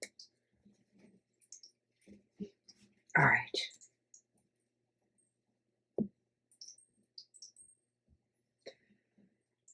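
Tarot cards shuffled by hand in a quiet room: one short, papery riffle burst in the middle, with scattered soft clicks and brief low murmured speech around it.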